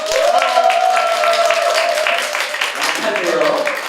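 An audience at a business conference claps to open the event, a steady burst of applause that fades slightly toward the end, with a voice speaking over it.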